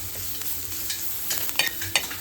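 Tadka tempering with green chillies sizzling in a pan, a steady hiss close by with a few brief spatters and scrapes toward the end, no talk.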